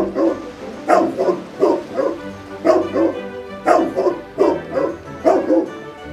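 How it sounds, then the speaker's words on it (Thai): A dog barks repeatedly in a steady rhythm, loud and close, each bark a short yappy burst with slight whimpering tones between, in a Barbie mermaid princess doll story play scene; no talking over it. "เจ้าโจแกเห่าทำไมกัน"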